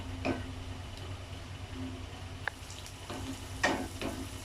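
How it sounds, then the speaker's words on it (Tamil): Onion and capsicum fry lightly in butter in a pan, a soft steady sizzle with a few brief stirring scrapes and taps, close and moderately quiet, no voices. "இது வந்து லைட்டாக வந்து இதில் ஃப்ரை பண்ணி எடுத்துக்கலாம்."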